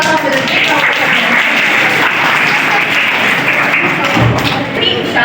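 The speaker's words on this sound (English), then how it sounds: "Please welcome Vishal Father with a big round of applause." An audience at a school computer exhibition gives loud, dense applause welcoming a student presenter, with continuous close clapping and a few thumps near the end.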